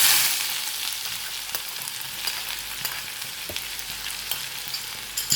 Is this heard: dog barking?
no